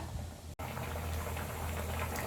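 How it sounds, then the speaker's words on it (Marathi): Mushroom gravy in Karwar style bubbling in a pan as it comes to a boil, a steady soft gurgling and simmering texture, close and fairly quiet, with a brief cut near the start. "मसाला वगैरे घातल्यानंतर आता छान उकळी येऊ देऊया ग्रेव्हीला।"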